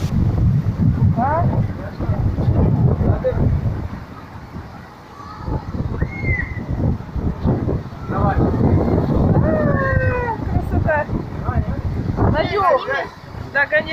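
Steady seaside wind in Sousse, Tunisia buffeting the microphone with low rumble throughout, while people talk and laugh nearby over the gusts.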